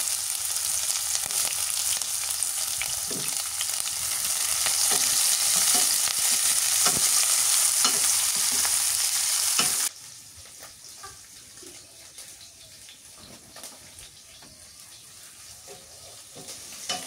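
Chopped onions and green chilies fry in oil with whole cumin seeds, a strong, steady sizzle dotted with stirring taps that abruptly drops to a much softer hiss partway through, with no talking.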